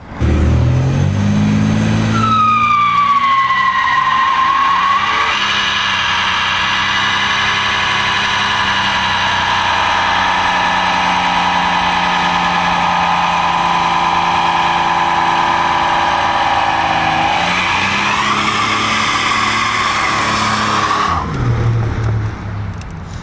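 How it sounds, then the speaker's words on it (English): A Buick Grand National does a burnout, its engine revving hard and holding a loud, sustained high roar with squealing tires for about twenty seconds before cutting off, heard up close with no talk. "And now on with tonight's burnout with the Buick Grand National."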